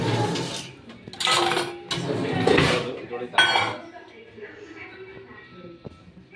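Dishes clinking as food is moved into a vessel in a home kitchen: several bright metallic clatters and scrapes come in short bursts, followed by quieter handling, while people talk nearby.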